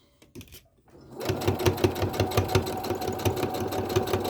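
A sewing machine stitches across fabric for a boxy zipper bag, starting after a few soft handling clicks and then running in a steady, rapid mechanical rhythm close by.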